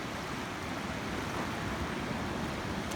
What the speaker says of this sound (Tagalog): Hoy, malalaki ng alon doon ah.